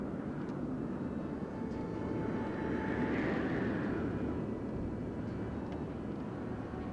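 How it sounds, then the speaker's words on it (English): Noisy wind in the Nancy Drew: Treasure in the Royal Tower game, a steady low roaring whoosh that swells slightly in the middle and holds throughout, with no talk. "Damn, that wind is noisy."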